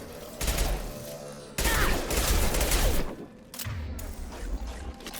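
Video game gunfire from Mass Effect 2, a loud sustained fusillade of rapid shots with brief lulls, busy battle effects layered throughout and no talking.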